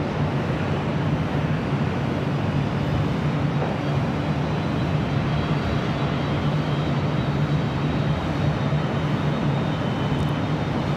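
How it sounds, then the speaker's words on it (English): China Airlines Airbus A350-900 airliner at LAX, a steady loud jet engine roar with a low hum and no break throughout. "China Airlines an A350-900 heading back to Taipei, heading to 25 right on the south side."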